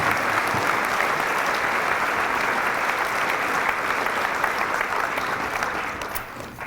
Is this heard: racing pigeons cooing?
no